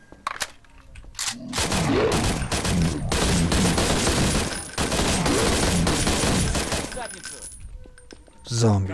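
Gunfire from a gun fired from the hip in the video game Paranoia 2, dense rapid bursts of shots in two long stretches separated by a short pause, loud and close, with faint talk around them.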